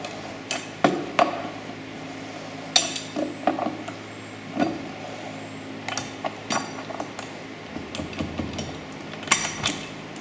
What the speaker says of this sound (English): I'm just going to get them a little bit tighter.